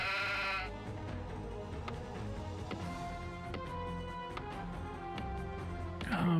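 Sheep bleating in the Warcraft II: Tides of Darkness orc campaign, a wavering baa heard over game music, followed by a second bleat near the end.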